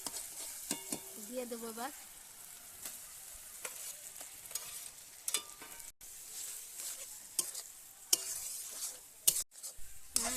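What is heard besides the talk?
banana flower paste being fried and stirred in a pan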